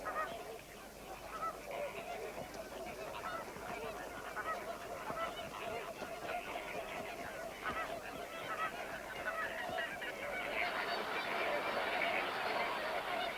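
Returning flocks of adult flamingos honk and call in a dense, continuous chorus from their breeding colony, the clamour swelling slightly louder toward the end.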